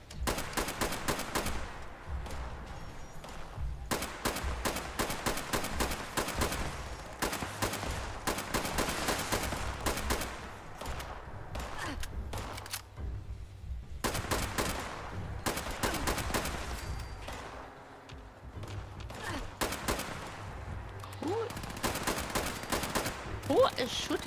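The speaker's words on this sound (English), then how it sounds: "Who is shooting me?" Gunfire rattles through a shooting video game, with dense bursts of rapid automatic shots and single cracks that pause briefly and resume, loud and continuous under occasional talk.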